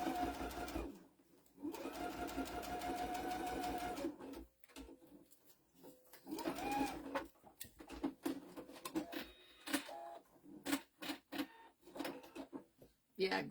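A sewing machine runs in several short bursts, stitching a fabric zipper bookmark; the motor's hum starts and stops close by, with a few faint clicks between runs.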